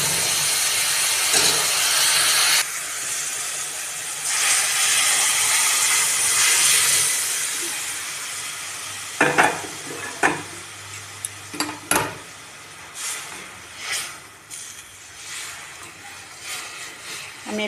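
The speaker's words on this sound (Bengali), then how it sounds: "এবার আমি ডালটা দিয়ে দেবো" Masoor lentils tipped into hot tempering of cumin and slit green chillies release a loud steaming hiss. As the hiss dies down, a spoon stirs with intermittent clinks and scrapes against the pan.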